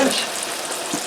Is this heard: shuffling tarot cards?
no